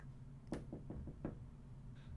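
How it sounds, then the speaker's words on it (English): Knocking on a door, a short series of about five sharp raps spread unevenly across two seconds, fairly faint over a low background hum. "So is there a door knock for all your door knocking?"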